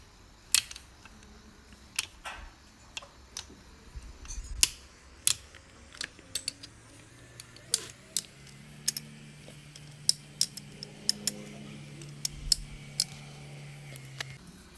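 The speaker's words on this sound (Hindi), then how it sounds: "इसके बाद हम इसके ऊपर 25 Nm टॉर्क से टाइट कर देंगे क्रैंक केस के बोल्ट्स" A torque wrench tightens the crankcase bolts of a Chevrolet Sail diesel engine during an overhaul, giving repeated sharp ratcheting clicks at an irregular pace over faint workshop hum.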